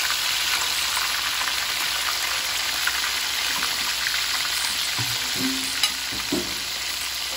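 Fish frying in hot oil for escabeche gives a steady, dense sizzle with crackling throughout, joined by a few brief low clatters of utensils near the end; no talking.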